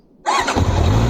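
QJ Motor SRK 800 RR motorcycle engine starting: a quick starter whir after a brief silence, catching into a loud, close, rumbling idle.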